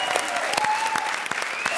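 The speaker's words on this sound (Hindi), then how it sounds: "बजा ताली।" Audience applause during a live comedy show on a stage with judges, a brief burst of dense clapping at steady loudness with crowd noise and a voice running underneath.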